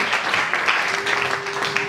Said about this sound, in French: Applaudissons la parole du Seigneur.